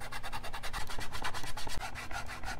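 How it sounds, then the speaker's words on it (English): Close, steady rubbing of a disinfectant wipe over a PS2 Slim console's plastic casing, a continuous rhythmic scrubbing swish with quick repeated back-and-forth strokes. "Let's just try a disinfectant wipe."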